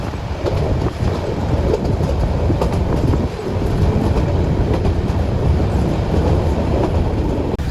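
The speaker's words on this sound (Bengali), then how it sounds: "এখানে কিছুক্ষণ দাঁড়ানোর পর ট্রেনটি ছেড়ে দিয়েছে।" A train pulls away from a junction station and runs along the rails, giving a loud, steady rumble with rolling wheel clatter throughout and no voices.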